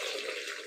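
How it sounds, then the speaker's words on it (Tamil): Water pours briefly and steadily into a cooking pot for a village-style dish, a short continuous splashing rush heard alone. "தேவையான அளவுக்கு தண்ணி ஊற்றிக்குங்க"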